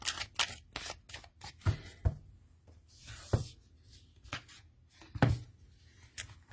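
A deck of cards being shuffled and flipped through by hand: quick papery riffles and snaps in uneven bursts, close and fairly quiet.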